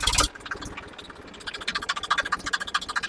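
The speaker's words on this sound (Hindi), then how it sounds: "बहुत शानदार आवाज में ट्रैक्टर" An old tractor engine idles nearby at moderate volume, a steady rhythmic chugging with regular pulses, after a brief louder burst at the start.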